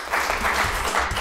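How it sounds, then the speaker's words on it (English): Short burst of steady audience applause at an earth science department's 60th anniversary celebration, dense and fairly loud, with a faint voice underneath. "So give yourselves another round of applause."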